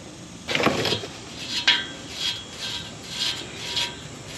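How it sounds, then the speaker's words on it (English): Scrubbing dirt and rust off an exhaust hanger bolt on a 2003 Ford F-150 4x4, a close series of short raspy brushing strokes in an uneven rhythm, alone with no talk. "So you can see dirt and rust coming off of there."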